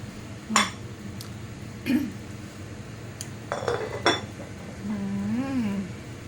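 Someone handling a cooking pot in a home kitchen: scattered metallic clanks and clinks, a few sharp knocks and scrapes, close and fairly loud, with a brief rising tone near the end.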